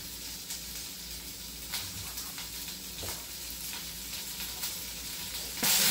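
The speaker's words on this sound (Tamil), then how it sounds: "கொஞ்சம் நல்லா ப்ரௌன் கலர் வர வரையும் சாட்டே பண்ணிக்கலாம்" Onions, ginger and garlic sauté in a pan, giving a steady close sizzle with a few stirring scrapes and a louder burst near the end.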